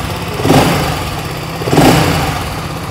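BSA Gold Star 650 single-cylinder motorcycle engine blipped twice from idle, each rev swelling and settling back into a steady throb, close and loud with no talk.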